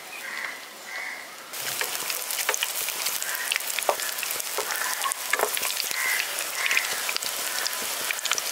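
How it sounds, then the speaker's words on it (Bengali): Green mango chops coated in gram flour batter drop into hot oil, bursting into a dense, loud sizzle after a quieter start and crackling steadily to the end, with no voices. "এবার একটা করে চপের পুর নিয়ে আমি বেসনের ব্যাটারের মধ্যে ডুবিয়ে তেলে ছেড়ে দিচ্ছি"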